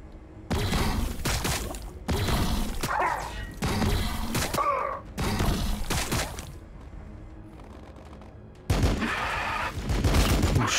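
Gunfire in the Warhammer 40,000: Battlesector strategy game comes in dense bursts of rapid shots, several volleys separated by short gaps, loud and close, with no talk over them.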